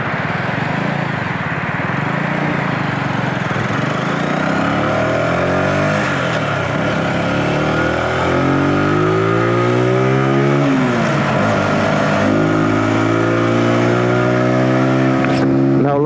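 A Zontes G125 motorcycle engine revs and drones steadily in Bucharest traffic, pitch rising and falling through gear changes, with a voice talking over it.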